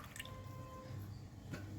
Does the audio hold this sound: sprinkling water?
yes